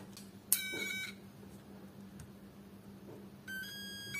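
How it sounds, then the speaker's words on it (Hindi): A Bluetooth speaker under test gives out a couple of short, high electronic beeps, one near the start and another toward the end, over a low steady hum, with no talking. "स्पीकर मेरा बीप का साउंड आ रहा है"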